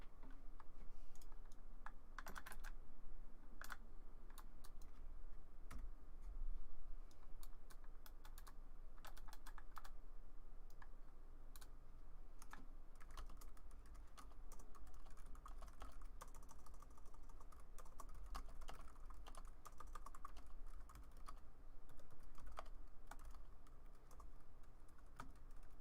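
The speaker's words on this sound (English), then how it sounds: "I was typing." Steady computer keyboard typing, a dense run of close clicking keystrokes continuing for the whole stretch, with no talking.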